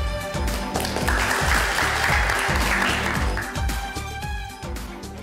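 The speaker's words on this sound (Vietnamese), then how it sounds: "Xin cho một tràng pháo tay." Wedding guests at a ceremony in Cà Mau give a full, loud round of applause that swells and holds steady over background music, then gradually thins out toward the end.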